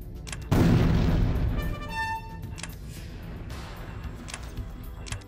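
A loud cannon blast from the game Ballerburg booms suddenly and rolls off into a fading rumble, followed by softer clanks and ringing tones from game sound effects.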